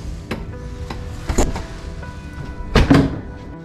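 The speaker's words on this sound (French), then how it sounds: "On m'a dit que je pouvais ouvrir la porte qui est là." A door in a Montreal chapel is opened, giving a few sharp clicks and a louder latch-and-creak near the end, close by and fairly loud.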